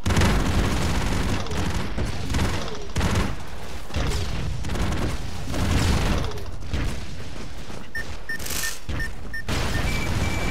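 Chaotic explosions and rapid gunfire from the Broforce game, dense bursts and booms packed together across the whole stretch, loud throughout.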